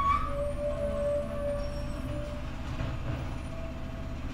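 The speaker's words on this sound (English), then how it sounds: "I swear I've had like 3 dump trucks drive through in the last 10 minutes" A dump truck passes by outside, a steady low rumbling engine drone with a faint tonal whine early on, heard from indoors at moderate loudness with no voices.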